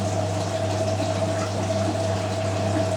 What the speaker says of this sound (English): Oh, that Hotpoint's going to the first spin.